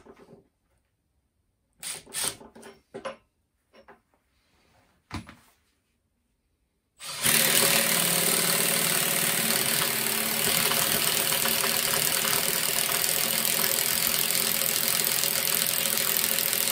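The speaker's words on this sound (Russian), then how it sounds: "давайте напоследок импактом 25-м" A Makita DTD153 impact driver runs after several sharp clicks and handling knocks, then roars with a loud, continuous motor-and-hammering noise for about ten seconds.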